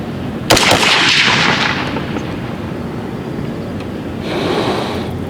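A custom AR-15 in .300 AAC Blackout with a 16-inch barrel and pistol-length gas system fires a single sharp, loud shot outdoors, followed by a long rumbling echo that fades over several seconds.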